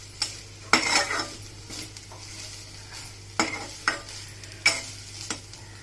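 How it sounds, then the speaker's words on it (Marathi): Grated coconut roasts in ghee in a pan while a spoon stirs it, producing a quiet background sizzle broken by several sharp scraping and clinking strokes against the metal. "आता खोबरं भाजून घेऊया।"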